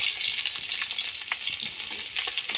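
Tengra fish frying in hot oil in a pan, a continuous bright sizzle with crackling pops and spits rising and falling, fairly close and alone without any talking.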